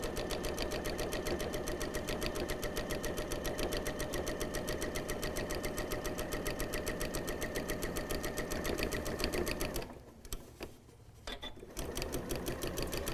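A sewing machine stitches binding onto a fabric napkin in a steady, rapid run, briefly stopping near the end for a pivot with soft handling sounds, then resuming its even whirring stitch.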